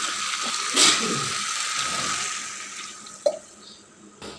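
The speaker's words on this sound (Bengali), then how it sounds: "এবার একটু পানি দিয়ে দেবো।" Water poured into a frying pan of spiced taro stolons, making a close rushing, hissing splash that tapers off, followed by a small clink near the end.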